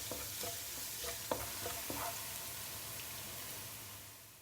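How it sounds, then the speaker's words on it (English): Soft, steady sizzling of garlic frying in oil in a wok with a few light scraping stirs near the start, fading slightly toward the end. "I'm starting to cook by frying the garlic"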